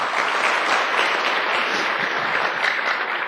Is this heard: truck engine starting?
no